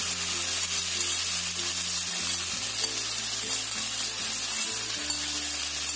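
Chicken pieces stir-fry with ginger in a hot pan, giving a loud, steady hiss and crackle that runs unbroken throughout, with low tones humming beneath it.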